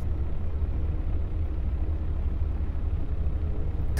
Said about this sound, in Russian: вы слышите, как работают двигатели?